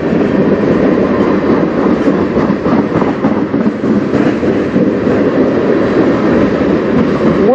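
A CN manifest freight train on the Strathroy Sub rumbles past close by, loud and continuous, its wagons clattering in a dense rolling rhythm with no talk.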